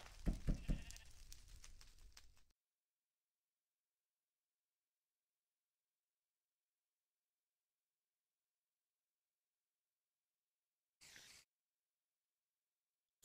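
A short burst of sheep bleating in the video game Survivalcraft at the start, then long silence broken by a brief faint blip near the end.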